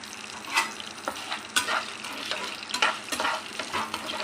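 Dried red chilies, green chilies and peeled garlic cloves fry in oil, a continuous close sizzle broken by repeated scraping stirs of a spatula.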